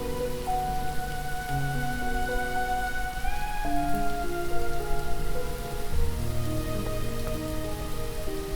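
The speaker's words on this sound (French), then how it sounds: "La pluie tombe doucement, comme si elle partageait les sentiments de Pinky." Gentle rain falling on a surface, a steady soft patter heard behind sustained musical tones of a melancholy score, no talk.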